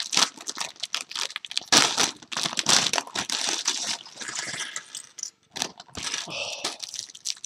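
Plastic LEGO bag number 3 being torn open and rummaged, close crinkling and crackling in dense bursts with brief pauses, pieces rattling inside, and no talking.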